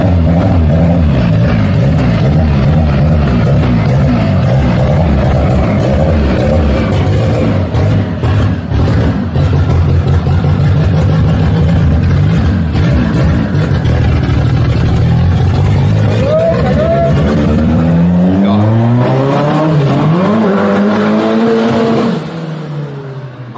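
A Chevrolet Chevette Turbo race car engine at a racing workshop runs loud and steady, idling roughly with a rumbling tone, then rises in a couple of revs near the end before cutting off.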